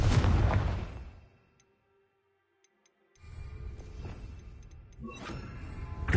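Confringo fire spell blast in Hogwarts Legacy, a loud explosive burst that fades out over about a second, followed by near silence and then a second rumbling fiery blast and crackle.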